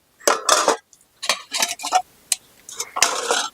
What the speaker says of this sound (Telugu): ఇదిగోండి చేప ముక్కలు వేసేస్తున్నా.